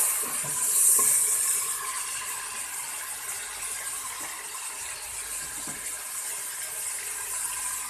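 Onion, ginger and garlic frying in a pan for achar gosht give a steady, even sizzle that hisses continuously for the whole stretch, fairly close, with no talking.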